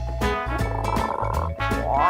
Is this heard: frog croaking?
yes